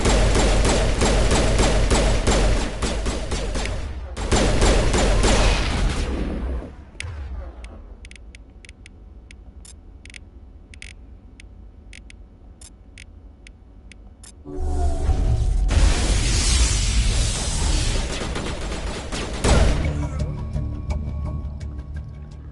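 Firefight gunfire in Mass Effect Legendary Edition, with dense bursts of rapid shots and impacts, then a quieter stretch of sparse ticking shots, followed by another loud burst of heavy fire.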